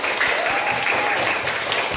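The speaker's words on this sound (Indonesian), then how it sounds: "Mari kita tepuk tangan untuk kepada anak yang menjawabnya." A fourth-grade class claps for a child's answer, giving a loud, steady burst of many hands clapping together that lasts throughout.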